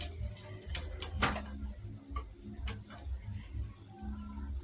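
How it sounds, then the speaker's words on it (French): Ripe banana and cornmeal fritters fry in hot oil with a steady low sizzle and bubbling, broken by a few sharp clicks and taps of a utensil against the pan. "nous laissons nos beignets dorés"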